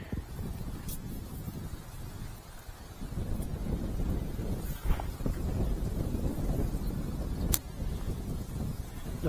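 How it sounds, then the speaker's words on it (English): Wind blows steadily by a mill stream, a broad rushing roar buffeting the microphone with gusts and a few faint knocks, continuous and fairly loud throughout. "The wind's freshening quite a lot now"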